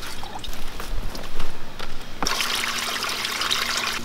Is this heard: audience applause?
no